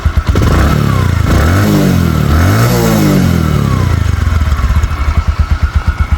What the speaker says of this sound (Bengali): এখন স্টার্ট করব তারপর দামের পর চলে যাব দেখেন বাইকটা এত স্মুথ সাউন্ড